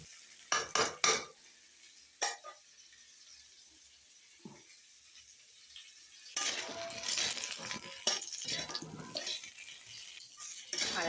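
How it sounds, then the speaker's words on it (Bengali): Potatoes fry in oil in a wok, opening with a few sharp metal clanks and scrapes of a stirring spoon, then a quiet lull before a loud, steady sizzle rises and continues under more scraping. "কড়াই বসিয়ে দিয়েছি, আলু তেল দিয়ে ভাজতে বসিয়ে দিয়েছি"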